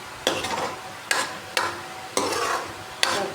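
Masala spices are stir-fried with bottle gourd in a pan, with five sharp scraping stirs at irregular intervals, each followed by a soft sizzle that fades, close up and without talk.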